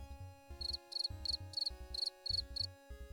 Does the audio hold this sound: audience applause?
no